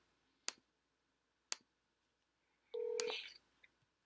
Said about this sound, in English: I'm gonna call you on your phone here, and we'll just do this by phone.